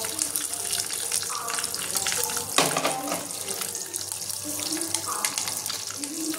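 Slit eggs fry in hot oil with a continuous crackling sizzle, steady and close, with a few louder spits and a voice talking quietly in the background.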